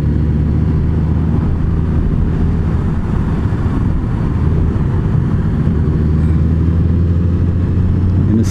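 A 2019 Honda Goldwing with DCT transmission cruising on the road, its engine a steady low drone blended with continuous wind rush, loud and unbroken throughout.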